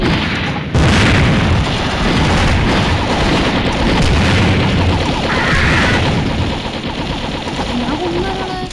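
Bomb blast in the Mini Militia mobile shooter game, a heavy boom in a loud, continuous barrage of gunfire and explosions that runs the whole stretch, with a voice briefly in the mix.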